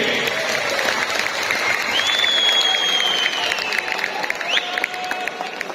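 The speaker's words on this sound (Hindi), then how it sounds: "तो एक बार जोरदार तालियां कनेक्टेड पाकिस्तान के लिए" An audience at a success-story talk gives loud, sustained applause for Connected Pakistan, a dense wash of clapping with a faint whistle or cheer rising through it.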